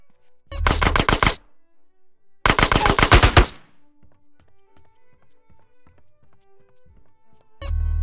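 Automatic gunfire from Grand Theft Auto San Andreas rings out in two loud rapid bursts of about a second each, with a third burst starting at the end. Quiet game tones fill the pauses between them.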